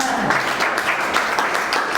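Brief, loud applause from an audience at a business leaders' meeting, a dense wash of clapping heard with a voice faintly underneath.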